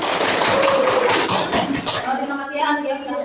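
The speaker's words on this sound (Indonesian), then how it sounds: "Tepuk tangan semuanya" Brief clapping from a classroom of students, a dense patter for about two seconds that fades as voices start talking.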